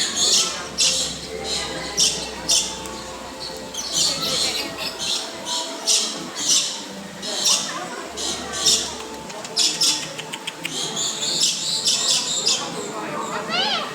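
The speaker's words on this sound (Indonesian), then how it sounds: "Itu burung Makau." A macaw squawks in repeated sharp bursts inside a large zoo aviary, under steady chatter from nearby people.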